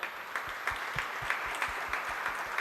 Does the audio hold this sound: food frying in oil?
no